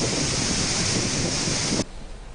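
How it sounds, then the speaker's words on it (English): A waterfall swelling suddenly during heavy rainfall, loud continuous roaring rush of water captured on a phone, cutting abruptly to quieter background near the end. "Mobile phone of a bystander has recorded the scene of how water level in the waterfall increasing at once with heavy rainfall."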